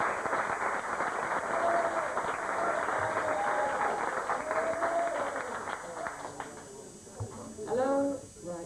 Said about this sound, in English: One more round of applause for Brian.